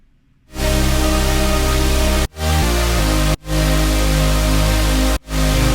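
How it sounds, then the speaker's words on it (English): A loud, dense layered synth chord sits over a heavy sub bass, sustained with brief dropouts between chord changes, with no one speaking. "So all together, the stack and the sub bass sounds like this."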